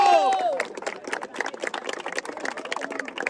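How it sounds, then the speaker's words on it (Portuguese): Brief crowd clapping after a rap battle, a quick spatter of hands following a shouted voice at the start, moderately close and fairly loud throughout. "Palmas pros dois aí, família!"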